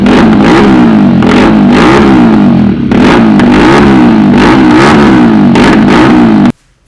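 A 2018 Taro GP2 Gladiator 200 motorcycle, the exhaust revved close up in repeated throttle blips that rise and fall in a loud, rhythmic pattern before cutting off abruptly near the end.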